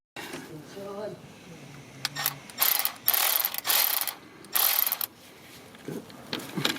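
A hand ratchet works on the belt tensioner bolt of a 2006 Honda Civic, giving several bursts of rapid close clicking with short pauses between strokes, and a brief voice murmur near the start.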